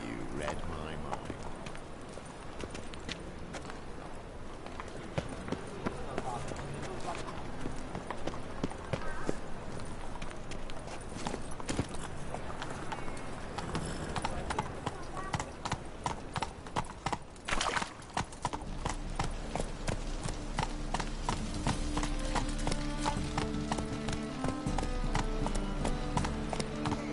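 Roach the horse galloping in The Witcher 3, with steady rhythmic hoofbeats and occasional whinnies running throughout under game music and speech.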